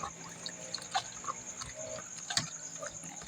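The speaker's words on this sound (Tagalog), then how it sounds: "Then, atin lamang hahalo-haluin yung ating tubig." Water is stirred for a pork chop brine, dissolving salt and sugar with garlic in it, giving faint soft swishes and light clinks against the container, close and quiet with no talk.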